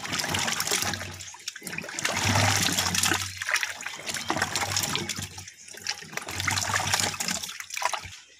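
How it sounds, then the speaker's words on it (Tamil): Raw mangoes being rinsed under a generous flow of water for mango pickle, a steady close splashing and trickling that runs almost continuously, with brief lulls between pours. "நல்லா தாராளமா தண்ணி ஊத்தி பால் இல்லாம சுத்தமா அலசிக்கணும்."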